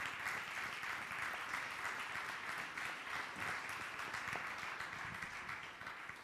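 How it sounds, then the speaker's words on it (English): A church congregation applauds at a Sunday celebration service, continuous even clapping heard from a moderate distance, sustained throughout and tapering slightly at the end. "let's give all of them a round of applause"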